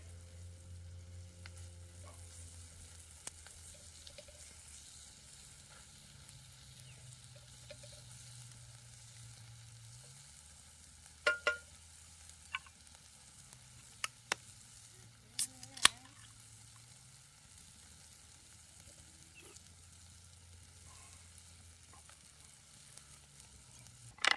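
Onions sizzle in a pan over a hobo stove in an Idaho forest, a steady soft frying hiss with a few sharp clinks and knocks partway through.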